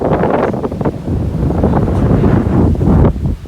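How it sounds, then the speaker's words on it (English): Strong wind buffets the microphone in a continuous loud rumble outside an abandoned church in open country, gusting and swelling throughout with no voices. "It's so windy."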